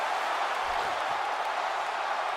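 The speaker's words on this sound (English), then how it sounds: "Getting an ovation from the crowd for that choke out." A steady, dense crowd roar fills a WWE 2K18 arena during a women's match between Charlotte Flair and Natalya. The broad ovation hangs at an even level throughout with no distinct peaks.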